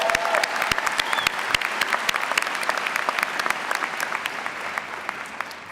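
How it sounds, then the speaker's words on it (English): Sustained applause from a large crowd at the Tufts Graduate School of Engineering 2018 graduation ceremony, a dense, even roar of clapping that holds steady for several seconds. "Another round of applause for you."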